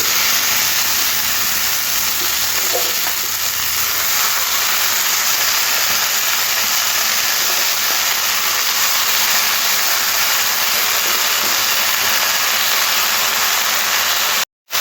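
Bottle gourd greens hit a hot pan of potatoes dusted with turmeric and sizzle in a steady, loud, unbroken hiss for many seconds, then cut off abruptly at the end.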